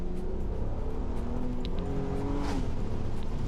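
Audi TT with a 250 bhp VR6 engine pulling hard under full throttle, a continuous loud engine note with rising harmonics that sweep upward, then briefly dip around a gear change before climbing again.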